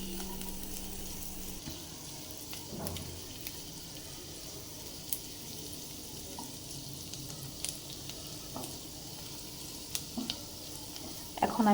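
Garlic sizzling gently in melted butter in a pan, a soft steady frying hiss with scattered spoon stirs and light clinks, close and moderately quiet, no speech.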